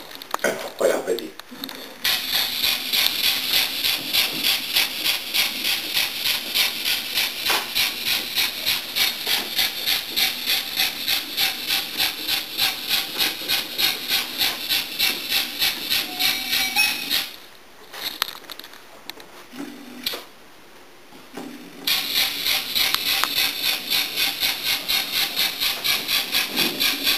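An HO scale model steam locomotive hisses and chuffs in a fast, even rhythm for most of the stretch, fairly loud and close, pausing briefly near the end before resuming.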